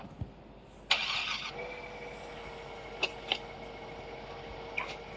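A car engine starts in the Car Parking Multiplayer driving game in a snowy town, a single cranking burst followed by a steady low idle, with a few faint clicks later.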